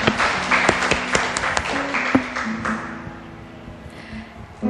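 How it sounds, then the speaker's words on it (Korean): Audience applause at a poetry reading, a patter of claps with a few sharp individual taps, fairly close, fading toward the end. "박수를 청해 듣겠습니다."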